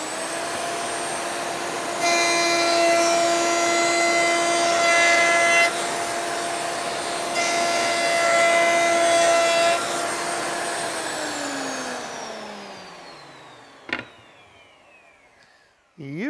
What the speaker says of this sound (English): I'm using a 1/2 inch roundover bit, and I'm raising it enough that the shoulder of the cutter is going to come up into the face of my material